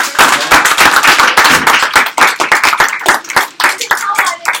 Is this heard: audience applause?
yes